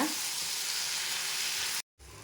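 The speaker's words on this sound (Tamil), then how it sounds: "இதையும் நல்லா வதக்கிக்கோங்க." Mint leaves and other chutney ingredients sizzle steadily in a hot pan, a continuous dense frying hiss that cuts out briefly near the end before resuming.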